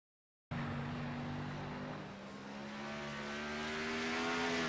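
Race car engine in a racing video game at Sonoma, a steady loud roar of revving with sustained engine tones rising slightly, starting abruptly after a brief silence and running continuously.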